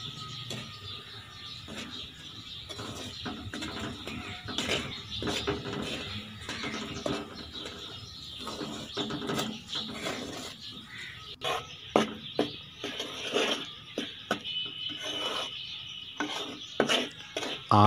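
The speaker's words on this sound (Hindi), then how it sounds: "और चम्मच आपने इसका हिलाते रहना है" A spoon scrapes and rasps repeatedly against a pan while stirring wheat flour in desi ghee, making busy, irregular clicks and scratches close up.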